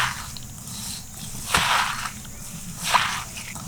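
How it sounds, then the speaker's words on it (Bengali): Chopped vegetables with salt squeezed by hand, making a few soft, wet squishing bursts at a slow rhythm, close and fairly loud against a quiet background. "নুন দিয়ে এইভাবে চটকে নিলে জলটা বেরিয়ে যাবে সহজে"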